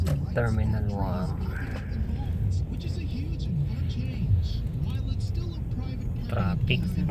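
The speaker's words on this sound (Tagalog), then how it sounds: "Traffic." Road traffic flows near an airport terminal at arrivals during a busy Christmas period, a steady car rumble from inside a vehicle. People talk over it the whole time.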